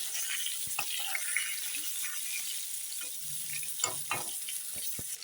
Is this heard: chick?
no